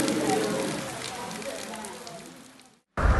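Steady rain pours throughout a rainy day while fish is being fried, making a dense, even hiss that slowly fades, breaks off into a moment of silence, then returns loudly.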